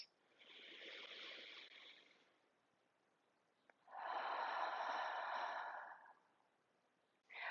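Slow, deep breaths during a yoga breathwork practice, two long airy inhales or exhales separated by a pause, close and soft with no talking.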